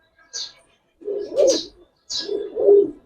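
Giribaz pigeons at a pigeon farm coo in two close, soft bursts, each a low murmuring phrase with brief higher chirps, separated by a short pause.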